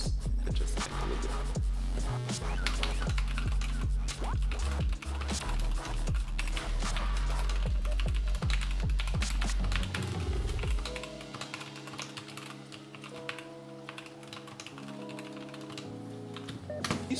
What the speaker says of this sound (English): I'm gonna test type on it because why not?